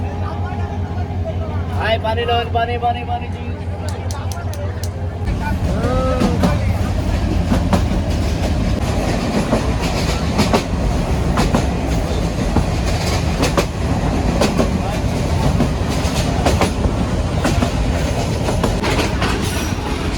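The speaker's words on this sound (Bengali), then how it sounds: "এই মুহূর্তে আমরা ফাতেমানগর রেলওয়ে স্টেশনে প্রবেশ করতেছি" A commuter train running into Fatemanagar railway station in Bangladesh, heard from on board: rumbling wheels with rhythmic clickety-clack and squeals, loud and continuous, with passenger chatter in the background.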